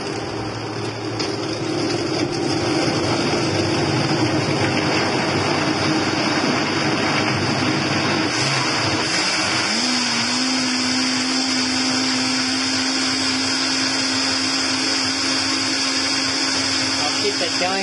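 A Vitamix blender whirs loudly and continuously through a juice smoothie, starting on low speed and then shifting up to a higher-pitched, steady roar partway through.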